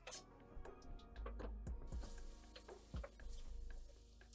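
Chicken pieces browning in a hot pan for a fricassee, a steady loud sizzle with crackling pops and occasional stirring scrapes, no talking.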